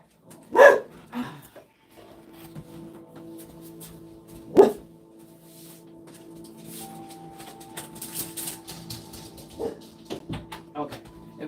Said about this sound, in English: If you guys hear they're barking,